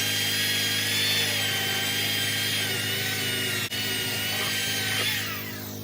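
A drill fitted with a 5/8-inch paddle bit bores through a post for a solar panel rack, giving a steady, close, continuous whirring grind that winds down near the end.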